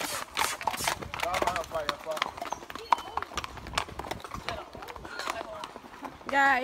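Rhythmic clip-clop of horse hooves on a hard surface during a jungle horseback ride in Jamaica, with people talking over it and a brief whinny near the end.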